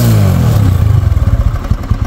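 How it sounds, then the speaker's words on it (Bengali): A 160 cc motorcycle engine starts up close and loud, settling into a quick, even run of thumping pulses after a brief rough burst. "তবে বাইকটা কিন্তু আমরা স্টার্ট করব। দেখেন খুবই একদম স্মুথলি সাউন্ড আছে"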